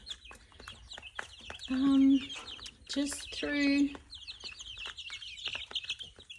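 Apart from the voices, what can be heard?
laying hens clucking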